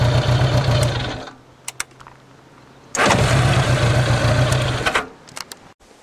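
A 1983 Honda Goldwing Aspencade motorcycle engine runs loud and close in two bursts, with a rough idle, a pause of about a second and a half, then another strong burst before it fades to quiet.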